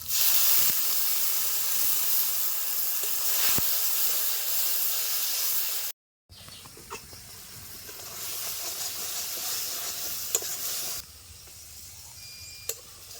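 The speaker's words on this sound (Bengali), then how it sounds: "একটু জল দিয়ে মশলাটাকে আমি ভালো করে কষিয়ে নেব।" Spice paste with chopped tomato, salt, Kashmiri red chilli powder and a splash of water cooks down in a pan, giving a loud steamy hiss that cuts out briefly and then returns as a quieter, crackling sizzle with a few clicks.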